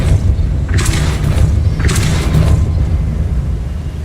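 Depulso spell cast in the Hogwarts Legacy video game, two heavy booming blasts in quick succession over a dense rumbling background, loud and close.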